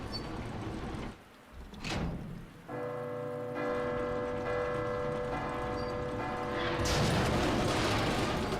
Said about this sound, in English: That's an angry clock tower bell.